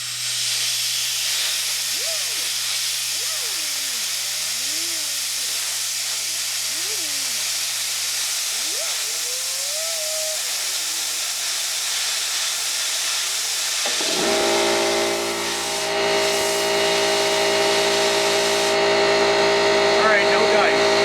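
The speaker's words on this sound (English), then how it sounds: "My compressor may fire at any time, just so you're aware, so be prepared to turn your volume down." Broadband hiss of an air compressor and blowing compressed air during a laptop processor fan repair, steady throughout, with a voice talking over the first part before a louder motor-driven roar takes over.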